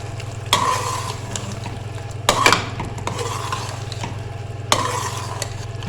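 BBQ chicken with thin lemon slices is stirred in a pot for biryani. A spoon scrapes and clanks loudly against the metal three times over a steady low sizzle, with no talking.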